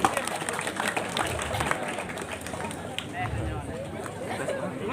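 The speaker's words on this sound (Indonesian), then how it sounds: "Tepuk tangan untuk penglingsir di tiang" A crowd at a Balinese sacred performance in Mengwi claps for an elder, with scattered applause mixed with chatter and crowd babble, heard at moderate distance throughout the stretch.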